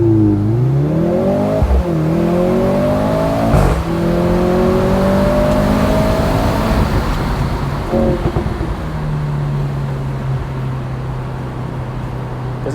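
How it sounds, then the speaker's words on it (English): Mercedes-AMG C43 engine revving hard at a race start, rising through several gear pulls with sharp shifts, loud and close from inside the car, then settling to a steady drone. "Doesn't sound too bad for inline 4."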